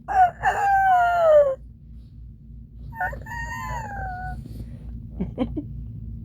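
A rooster crows loudly nearby, followed by a second, fainter crow and some softer clucking from chickens over a steady low hum.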